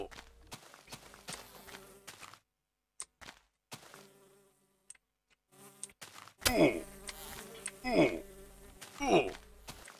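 Bees in the Minecraft Resourceful Bees mod buzz close by, faint and intermittent at first, then louder bursts of buzzing after a brief quiet stretch, mixed with game footsteps.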